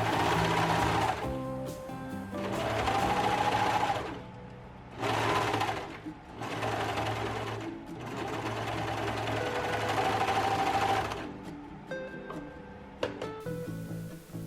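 A sewing machine runs in repeated bursts while stitching a gathered ruffle onto a thrifted shirt sleeve, a close, steady whirring hum that stops and restarts several times.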